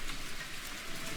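A video game event plays rain watering the savanna, an even, gentle patter of drops on surfaces that stays faint and constant throughout, with no one speaking.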